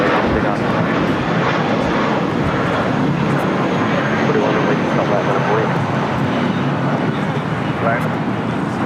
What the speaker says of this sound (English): That was Viva Aerobus A320 heading to Guadalajara